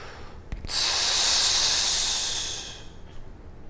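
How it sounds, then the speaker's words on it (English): A person breathes in deeply into the belly while bracing the core; a single long, loud hissing inhale starts sharply, holds steady for about two seconds and then fades out. "Breathing in to the belly."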